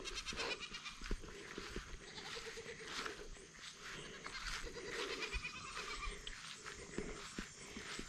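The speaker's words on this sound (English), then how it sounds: "I'll go over here by the baby goats." Young goats bleat amid a busy outdoor farm bed of rustling and shuffling, the calls rising intermittently over a dense, noisy background with no one speaking.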